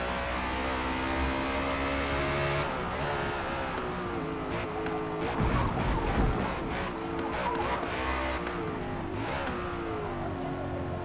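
A BMW on sport tires in Forza Motorsport roars steadily through a run of turns, its engine note rising and falling with throttle and shifts, loud and continuous with no voices over it.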